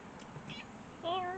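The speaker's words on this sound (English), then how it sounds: "Say hi to my cat" A cat gives a short, clear meow near the end, after a couple of faint, soft sounds in a quiet room.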